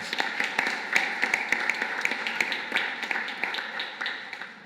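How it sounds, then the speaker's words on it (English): Applause from an audience at an MRCPI conferring ceremony of the Royal College of Physicians of Ireland, a sparse, moderately loud patter of individual claps with distinct sharp hits spread across the room, steady throughout. "we might give them a round of applause"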